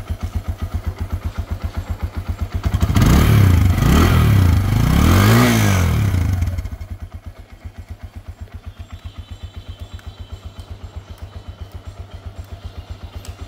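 A Chinese motorcycle engine idles with a steady, rapid thumping pulse, then revs up sharply for a few seconds in a loud rising-and-falling roar before dropping back to a lumpy idle, recorded up close.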